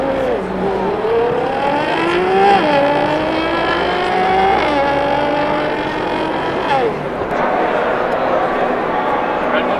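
A voice imitates a Nissan GT-R twin-turbo sports car engine with a continuous droning rev that rises and shifts in pitch several times, loud and close.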